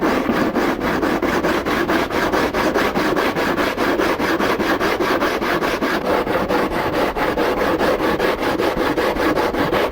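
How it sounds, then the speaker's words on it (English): A 12-inch Permagrit sanding block worked over fiberglass in rapid, even back-and-forth strokes, a close, loud, rhythmic rasping scrub that continues without pause. "This is a 12-inch long permagrit sanding block."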